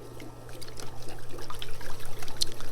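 Water trickles and splashes over the roots of a Kordana rose bonsai as they are rinsed, an uneven close stream with no voices.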